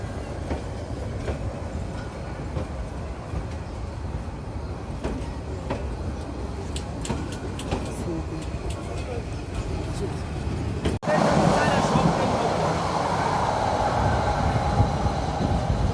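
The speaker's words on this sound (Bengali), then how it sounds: "চলে যাচ্ছে ট্রেন।" A train rumbles past nearby at night at Kasba, near the Indian border, with a steady clatter of wheels on rails, growing louder toward the end; a voice speaks briefly.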